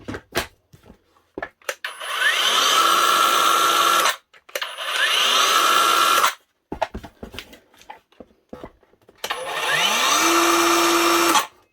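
An Evolution R185CCSX cordless circular saw runs up smoothly in three separate bursts, each spinning at a loud steady whine for a couple of seconds and then stopping abruptly, with handling clicks and knocks between runs.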